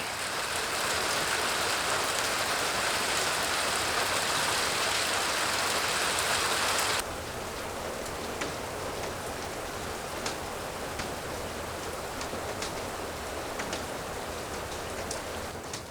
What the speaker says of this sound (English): Here comes some more hail.